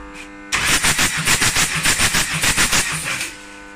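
A 2007 Mitsubishi Pajero/Montero IV engine cranks over on the starter during a compression test, about a dozen even, rhythmic pulses for roughly three seconds, close and fairly loud, then stopping.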